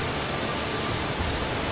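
Steady rain in the video game Steins;Gate 0, a dense, even hiss of downpour that stays loud and unbroken throughout, with no voices.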